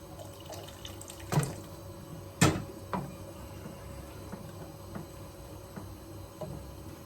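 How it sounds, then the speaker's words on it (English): Tap water runs quietly into a pot while a seafood medley with spinach and kale is cooked, broken by a few sharp clunks and knocks of cookware and a scattering of faint drips. "I need just a little bit more water there."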